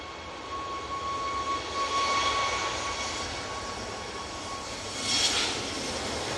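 An easyJet airliner arriving at Manchester Airport from Malaga, heard as a steady, moderately loud broadband jet roar that swells briefly near the end, with a faint tonal whine running through it.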